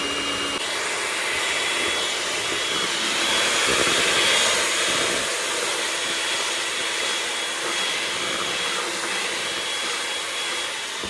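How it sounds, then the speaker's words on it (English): Electric mixer beaters running on high, whipping cold banana cream pie filling in a bowl; a steady, loud whirring drone that holds continuously throughout with no talking. "I'm talking about beat it really on your beaters on high"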